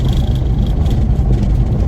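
A VW Mk4 Golf 1.8T with a big GT2871 turbo and forged engine cruises at low revs on a busy road, a loud, steady in-cabin rumble of engine and road noise with no talking.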